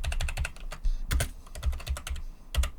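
Rapid typing on a computer keyboard while entering a heading in the Obsidian note app: brisk, uneven clusters of close, crisp key clicks with short pauses, no voices.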